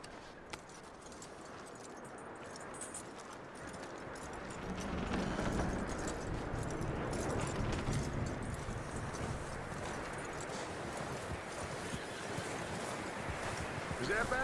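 Horse hooves clip-clopping in Red Dead Redemption 2, a steady faint trot under wind and ambient outdoor noise, with a voice speaking over it.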